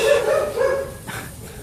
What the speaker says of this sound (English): sorry for the noise, it's my neighbor's dog that is barking